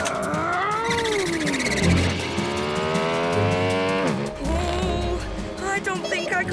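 A cartoon motorbike revs with a rising, whining engine tone and then zooms off, mixed with lively kids'-show music and character voices throughout.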